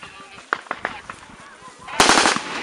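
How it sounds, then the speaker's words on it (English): Gunfire from firearms in an armed confrontation with equipped outlaws in Kaduna: a sequence of sharp shots cracks at irregular intervals, then a louder, denser burst of rapid fire near the end, with shouting voices mixed in. "Those who are at the high ground, please stop firing."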